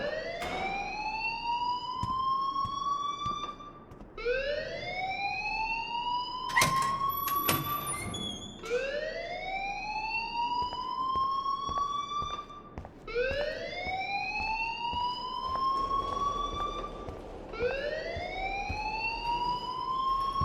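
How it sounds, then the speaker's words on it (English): An electronic school alarm in the Life Is Strange video game wails steadily, each rising whoop climbing in pitch and repeating about every five seconds, loud and unbroken with no talking. "please turn off that alarm since that's your job"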